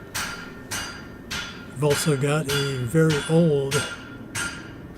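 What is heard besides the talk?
hammering in makerspace blacksmithing area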